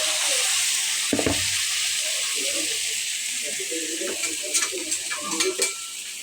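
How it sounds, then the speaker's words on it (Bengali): Mango pickle pieces go into hot mustard oil in a pan for a sweet-sour-spicy mango pickle, giving a steady broadband sizzle throughout with a few scraping stirs and brief clatters near the end, with no talking. "তারপর আমি এগুলা সরিষা তেলের মধ্যে দিয়ে দিচ্ছি"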